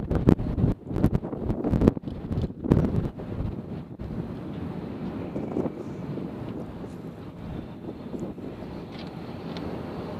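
Strong wind at an airport buffets the microphone, with loud gusty rumbling bursts early that settle into a steady, dense roar for the rest of the stretch.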